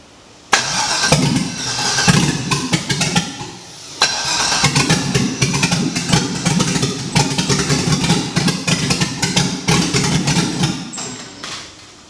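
The LS-swapped 2001 Lexus IS300 cranks and fires, then runs rough and uneven close by. It stumbles briefly partway through, picks back up, and sputters on before fading near the end.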